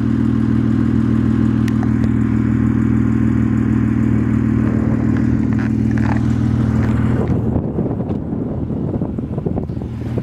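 A 1993 Acura NSX in Formula Red with a MagnaFlow exhaust idles close by with a loud, steady low drone, then wind buffeting on the microphone swamps it near the end.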